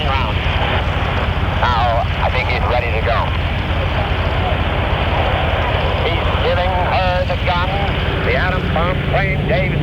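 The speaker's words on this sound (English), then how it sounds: "plane, Dave's Dream, is starting down the runway" Propeller plane Dave's Dream, the B-29 bomber for the Bikini atomic test, starts its takeoff roll with a loud steady engine drone and wind rumble, while a commentator speaks over it throughout.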